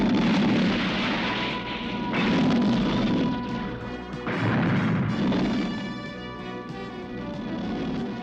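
Cartoon explosion from G.I. Joe as a rocket's nose cone is blown off, a loud sustained roar of booming blasts and crashing rumble that surges in waves over several seconds, with no talk.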